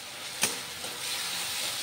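Curry leaves dropped into a hot pan of pabda fish curry give a brief sharp crackle, then a steady, close hiss of sizzling with no voices.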